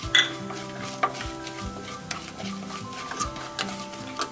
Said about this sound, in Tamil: இப்போ மிளகு ஜீரகத்தூளை இப்போ தான் சேர்க்குறேன்